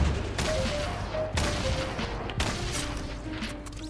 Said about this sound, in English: That was just spamming grenade launcher.